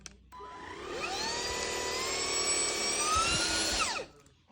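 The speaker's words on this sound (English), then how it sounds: "we have this Homeika cordless vacuum. It has those 3 speed options." A Homeika cordless vacuum cleaner runs alone, a steady high motor whine with rising harmonic pitch steps as it moves through its three speed settings, then shuts off abruptly near the end.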